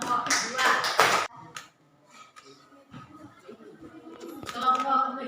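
A classroom group applauding their classmates after a presentation in an academic coaching session, with a short burst of clapping at the start that fades to scattered taps and murmuring voices.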